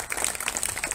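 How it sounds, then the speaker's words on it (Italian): Audience at a town administration's annual report meeting in Santa Teresa claps for a guest, a brief steady patter of applause filling the room with no voices. "intanto fate un applauso a Vincenzo"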